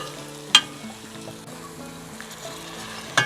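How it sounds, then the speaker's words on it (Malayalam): Onions sautéing in a pan for a Kerala-style egg roast, a soft steady sizzle with a couple of sharp spatula scrapes against the pan, no talking. "ഉള്ളി ഇതുപോലെ വഴന്ന് വരണം"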